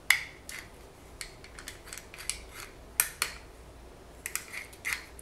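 Scissors cutting shapes from a thin polymer clay sheet for a pendant, a series of close, crisp snips and clicks in uneven bursts against a quiet background.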